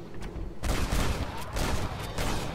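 Sustained gunfire from Red Dead Redemption, a dense barrage of rapid shots that starts abruptly and keeps going loud and close with no break.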